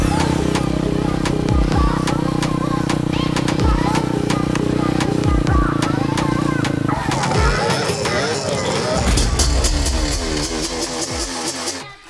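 A modified moped engine is kick-started and revs in a loud, rough, clattering rhythm with repeated bursts, then shifts to a harsher, higher racket partway through; someone talks over it.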